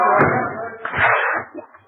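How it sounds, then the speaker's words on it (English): A radio sound-effects door slams with a short sharp bang, followed by brief bumping and rattling, close and fairly loud in an old studio comedy broadcast. "Sound man, open the door."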